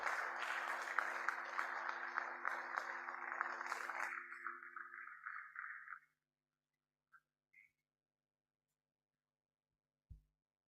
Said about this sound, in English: with a round of applause, welcome on stage Dr. Emmanuel Ifeanyichukwu Eno